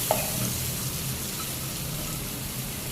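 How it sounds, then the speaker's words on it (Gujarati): Finely chopped onions fry with whole spices in a pan, producing a soft, even sizzle close by, with a faint clink near the start and no voices. "આ જે 2 ડુંગળી સમારી હતી ને એકદમ ઝીણી ઝીણી એ રહી એડ એ ચડવી દેવાની પહેલા"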